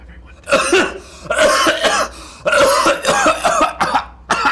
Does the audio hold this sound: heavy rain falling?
no